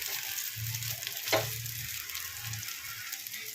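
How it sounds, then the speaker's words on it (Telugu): Cooked white rice is stir-fried for egg fried rice, a steady close sizzle with a sharp clank of the spatula against the pan partway through and ongoing stirring scrapes. "ఈ రైస్ని అంతా కలిపేసుకోవాలి"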